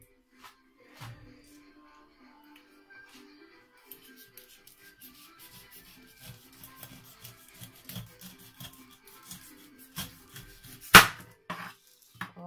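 A knife cuts and peels a pineapple with soft, steady rasping strokes that grow busier over time, then a sharp click near the end, all fairly quiet and close.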